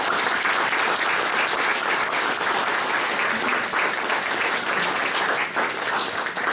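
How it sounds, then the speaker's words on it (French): Sustained, dense applause from a large audience at the opening of a Jean Tousseul exhibition, loud and even for several seconds without any letup. "et pour Marie-Rose et pour Adrien, je vous demande sincèrement de faire un triomphe d'applaudissements"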